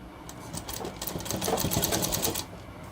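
A sewing machine stitches a shirt in a rapid, even run of needle clatter that rises to a steady whir and then stops, close by with no talk.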